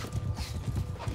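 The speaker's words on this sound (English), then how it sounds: "Our horse turned into a lame horse!" In Mount & Blade II: Bannerlord, a galloping horse pounds out rapid, rhythmic hoofbeats close by, with a whinny rising over them partway through.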